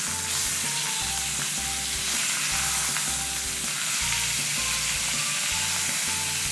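Flour dry-toasting in an ordinary frying pan for a nutty flavour sizzles and hisses steadily, with soft stirring scrapes throughout and no talking.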